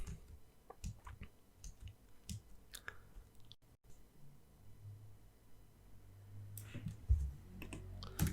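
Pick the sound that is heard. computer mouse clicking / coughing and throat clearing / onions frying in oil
computer mouse clicking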